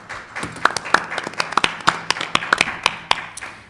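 Applause at a school board meeting: a modest crowd's scattered, fairly sparse hand claps in an indoor room, loud individual claps standing out over a softer patter, with no talk.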